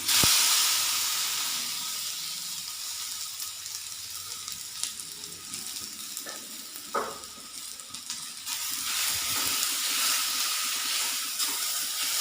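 Ripe plantain sautés in ghee in a pan, a steady close sizzle and hiss with occasional soft stirring scrapes.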